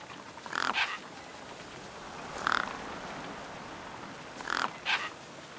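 Birds give a few harsh squawks in short bursts, spaced a couple of seconds apart, over a steady low background hum.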